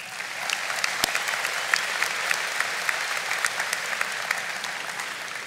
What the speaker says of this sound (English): A round of applause for those, please.